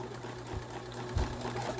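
A sewing machine back stitching over elastic on a fabric mask, a steady close mechanical whir with faint rhythmic needle thumps over about two seconds, no speech.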